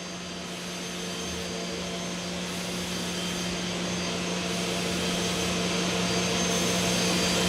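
CNC machine drilling 5mm holes for cam screws in sheet stock, a steady, loud, continuous whirring drone with faint rhythmic pulses and a gradual rise in level, with no talk.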